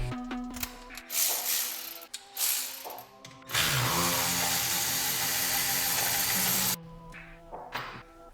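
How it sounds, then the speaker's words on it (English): Brand-new Milwaukee power tool with a T40 bit backing out the screws of battery brackets: short whirring bursts and ratcheting clicks, then one long sustained high-speed spin before a few brief final pulses, close and loud. "I've got this brand new Milwaukee tool. We're gonna remove those brackets right there."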